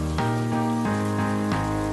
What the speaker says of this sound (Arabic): يا قامت تمطر.